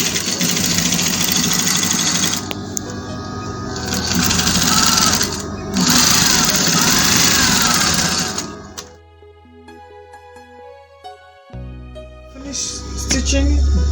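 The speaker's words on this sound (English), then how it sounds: "Stitching the other side as well." A sewing machine stitching fabric for a men's African-style top, running loud and close for about nine seconds, then stopping while quieter tonal sounds follow before the stitching picks up again near the end.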